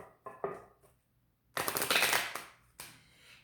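Tarot cards being shuffled by hand, close up: a few soft taps, then a burst of crisp riffling flutter about a second long, followed by a shorter riffle.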